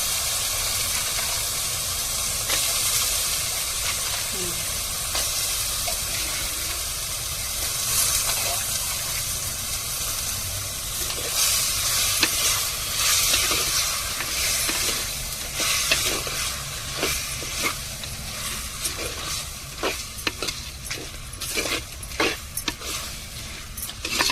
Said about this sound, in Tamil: இப்போ நண்டை சேர்த்துருவோம்